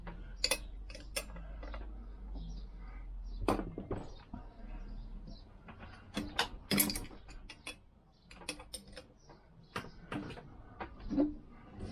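A spanner cracks loose 11 mm exhaust nuts on a Lambretta scooter, producing quiet scattered metallic ticks, clicks and taps at close range, with no steady rhythm.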